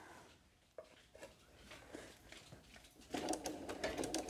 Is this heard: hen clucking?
no